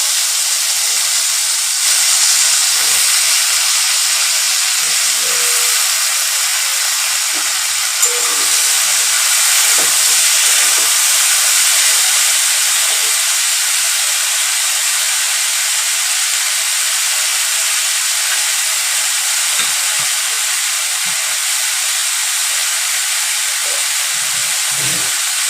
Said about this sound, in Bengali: মিশিয়ে আমি এটাকে এবার একটু ভেজে দেবো।